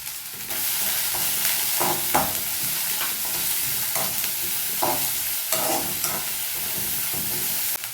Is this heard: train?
no